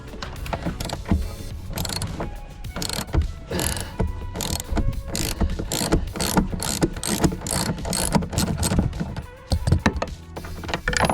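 A ratchet wrench undoes 13mm seat bolts in a Saab 9-5, clicking in rapid, rhythmic bursts close up, with brief pauses and clunks between runs.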